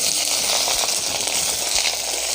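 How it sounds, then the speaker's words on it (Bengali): Chopped onion hits hot oil already seasoned with fried cumin, giving a loud, continuous hissing sizzle that holds steady for a couple of seconds, with no voices. "এবার আমি পেঁয়াজ কুচি দিয়ে দেব।"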